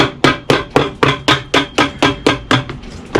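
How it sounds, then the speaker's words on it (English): A hammer strikes a leather midsole being fitted onto an Allen Edmonds Strandmok shoe during a resole with Vibram Christy soles. About a dozen loud, close, evenly spaced blows land roughly every quarter second, with no speech. "Now we've got to go ahead and hammer that out."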